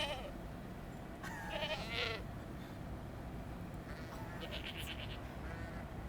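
Goats bleat on an open property of about 300 acres in a Bend neighborhood: two close, wavering bleats, then a thinner, fainter cry a few seconds later, over steady outdoor background noise.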